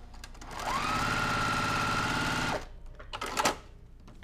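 A sewing machine runs in a steady, loud burst of stitching for about two seconds, followed by a few short mechanical clicks.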